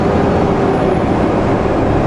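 Semi truck hauling a fully loaded Super B trailer, climbing a hill at low RPM; a steady, loud broadband engine and road rumble drones without a break, with no voices.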